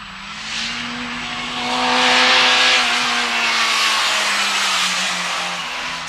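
A Peugeot 205 Rallye with a 105-horsepower engine revving to 6800 rpm sounds as a steady engine drone while driving. The pitch rises and falls gently with the revs under loud wind and road roar from inside the car.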